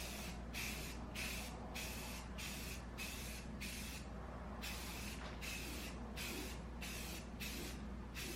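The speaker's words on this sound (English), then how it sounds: "we give it a nice coat of primer" Spray primer goes onto a Mandalorian helmet in a run of short, regular aerosol bursts. Each hiss is close and steady, with brief gaps between passes and nothing else heard.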